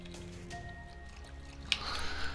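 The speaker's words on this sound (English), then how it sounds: "Let's fill up this with salt water." Salt water filling a container in the survival game Raft: a quiet hum, then a short wet splashing burst near the end, with no one speaking.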